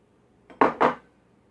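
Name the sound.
cucumbers being added to a glass jar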